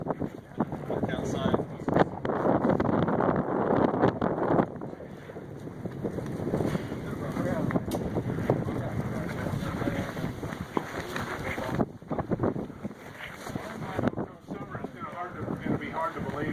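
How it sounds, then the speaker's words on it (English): Strong wind of about 12 to 15 miles an hour during a heavy January snowstorm buffets the microphone in loud, gusting roars that rise and fall. Voices are heard under it. "now the wind's really picking up"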